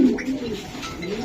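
A racing pigeon coos softly in a short low burble, close by, with faint background voices.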